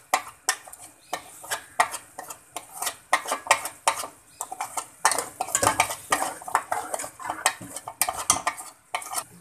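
Onions with crushed red chilli, salt and turmeric stirred in a pan for an aubergine bharta, a spoon scraping and knocking rhythmically against the pan with a faint sizzle underneath, close and clear with no talking.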